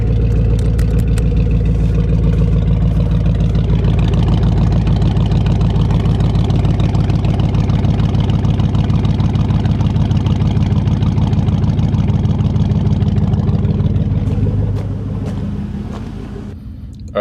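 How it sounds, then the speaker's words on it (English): A Chevy truck engine idles through an aftermarket exhaust, a loud, steady low rumble with an even pulsing beat, continuous and close, easing slightly near the end. "Oh yeah, it's got a nice exhaust on it."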